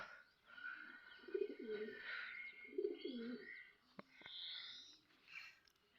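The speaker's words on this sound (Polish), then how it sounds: "Słychać jak gruchają tylko." Pigeons coo softly nearby in a few repeated low, rolling calls, with faint chirping birds in the background.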